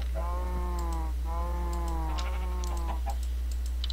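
Chickens in the Minecraft video game cluck in two short bursts of repeated squawks as they take damage, heard under a steady low hum with faint clicking, no talk.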